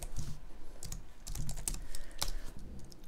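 Rapid typing on a computer keyboard while creating a new JSON file in a coding setup, an irregular run of close, crisp key clicks and taps lasting about three seconds with no talking.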